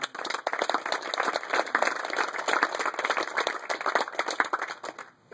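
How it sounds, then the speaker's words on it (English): A crowd at a military passing-of-the-sword ceremony gives a long round of applause for the soldiers, with crisp, even clapping throughout that fades out at the very end. "please give a large round of applause for the soldiers you see before you"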